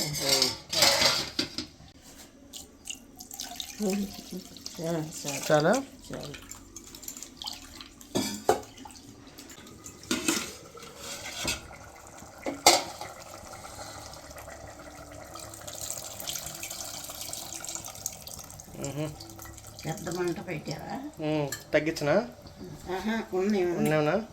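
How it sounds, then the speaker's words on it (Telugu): Tap water runs and splashes in a sink as fish is washed, mixed with clattering dishes, pots and cutlery, intermittent and close, while people talk over it. "కొంచెం నీళ్ళు పోసి"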